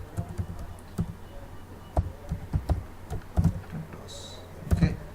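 Typing on a computer keyboard while writing a contact page for a sample ASP.NET MVC website, heard as close, irregular key clicks in short bursts with brief pauses between them.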